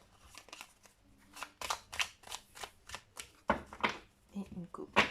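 Tarot cards are shuffled by hand in a quick run of crisp riffling bursts with soft slaps between them. The sound is close and fairly loud, and nobody speaks.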